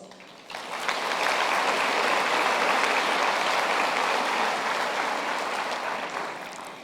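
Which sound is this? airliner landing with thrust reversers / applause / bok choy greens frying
applause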